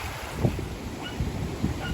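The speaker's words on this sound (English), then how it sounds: "a raging torrent of a river." Raging river torrent, a rushing wash of water noise filling the clip at steady loudness, with a few brief low thumps over it and no talking.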